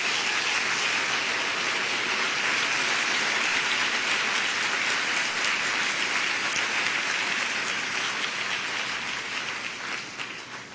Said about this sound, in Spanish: Dele un aplauso a Cristo Jesús.